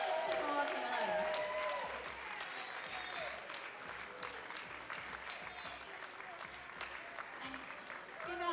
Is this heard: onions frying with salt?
no